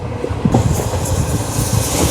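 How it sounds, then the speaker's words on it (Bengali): A passenger train on the Kolkata to NJP route runs through Jharkhand, heard from inside as a loud, steady rumble with rhythmic wheel clatter and a hiss of wind, no voices. "263 কিলোমিটার পার করে ট্রেন চলে এলো ঝাড়খণ্ডের পাকুড়ে"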